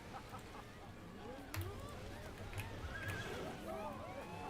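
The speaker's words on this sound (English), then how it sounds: "Did you guys hear the horse?" A faint horse whinny from the video game Planet Coaster 2 rises under a person talking, with a few clip-clop hoof sounds and quiet background noise.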